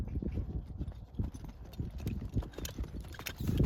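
Clip-clop hoofbeats of a saddled horse walking, a steady rhythmic series of soft thuds on the ground, close by with no talk over it.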